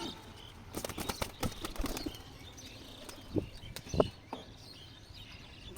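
Two wild pigeons fighting on a rooftop: a flurry of sharp, flapping wingbeats comes in close, uneven bursts with scattered thumps and a faint bird call, and a sudden loud flap right at the end.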